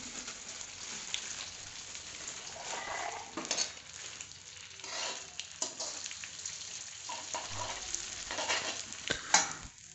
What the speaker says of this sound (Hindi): घी डाला इसके अंदर फिर हम गोंद को इसके अंदर डाल के अच्छी तरह से भून लेते हैं